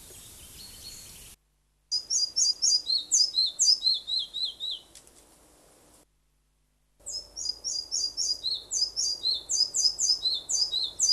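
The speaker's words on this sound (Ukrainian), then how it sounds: "Там от чути малу мухоловку." A red-breasted flycatcher sings repeated bright, high-pitched phrases in quick bursts in woodland, a short pause between series, clear and fairly close with no talking.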